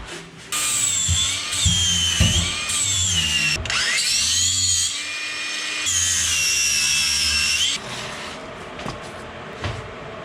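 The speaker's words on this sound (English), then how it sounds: "I'm just cleaning up the edges of all the stuff I cut off here. Just going through the flap wheel." A power tool with a flap wheel grinds down the cut metal edges of a boat floor, a close, loud whining drone that rises and dips in pitch across several passes before stopping.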